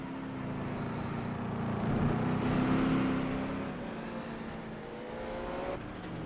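Race cars roar around a dirt track in FlatOut 2, the engines droning steadily and swelling as they rev and pass close by, with no talk over them.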